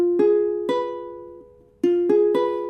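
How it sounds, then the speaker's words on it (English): A root position diminished chord is played note by note and then struck together, sustained tones ringing clearly up close with a short gap before the chord repeats. "Now a root position diminished chord sounds like this."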